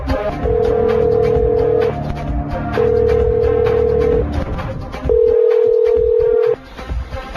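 A phone line ringback tone on a call to a Karachi number, three long even tones separated by pauses, over a background hiss.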